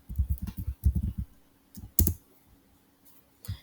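Fingers type on a computer keyboard, quick clusters of close, crisp key taps with short pauses between, entering a systemctl status command in an Ubuntu terminal.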